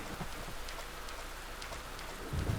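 Steady rain falls in the video game Deadly Premonition, a continuous soft patter of drops on surfaces with a slightly heavier burst near the end.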